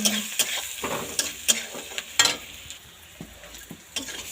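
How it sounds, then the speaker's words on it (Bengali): A stir-fry with salt, turmeric and chilli crackles in a pan, broken by repeated sharp scraping stirs at an uneven pace over a constant background sizzle, close and without speech. "নুন, হলুদ, লঙ্কা দিয়ে নেড়ে"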